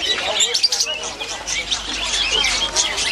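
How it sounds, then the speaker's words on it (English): Small caged birds chirp and tweet in a busy animal market in Kunming, a dense flurry of high, quick calls close by with some faint voices mixed in. "different coloured birds"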